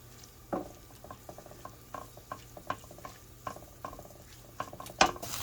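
Mashed potatoes are mixed with violets in a bowl, giving quiet, regular scraping and squishing strokes of a utensil against the low hum of a room, with a sharper knock near the end and no talking.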